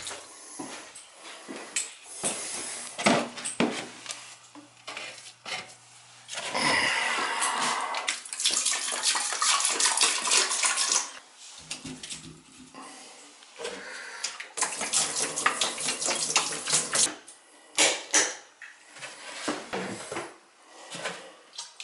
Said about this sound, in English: Faucets are open. Tub's open.